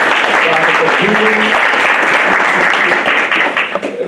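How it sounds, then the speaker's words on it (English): Loud, dense audience applause for speakers at a public health ethics plenary, sustained throughout and thinning slightly toward the end, with faint voices mixed in. "Let's give another hand of applause for Dr. Holmes, Dr. Kunjufu."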